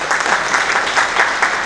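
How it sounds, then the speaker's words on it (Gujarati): A seated audience at an honour ceremony claps together, a steady, close burst of applause with a gently pulsing texture that fills the short stretch without pause. "તાળીઓથી તો વધાવો."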